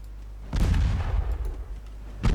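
Naval guns fire from a warship's broadside in Ultimate Admiral Dreadnoughts, set in an 1895 Norwegian campaign: a heavy booming blast rolls on for nearly two seconds, then another loud report begins right at the end.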